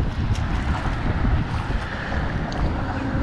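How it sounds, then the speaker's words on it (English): Strong wind blows steadily across an open canal in Cape Coral, Florida, with continuous loud buffeting rumble on the microphone and a broad rushing hiss, no voices. "It's very windy out."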